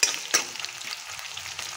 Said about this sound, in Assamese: এটা কটা পিয়াজ দি দিছো পিয়াজখিনি ধুনীয়াকে সিজাই লওঁ ৰঙচুৱা হোৱালৈকে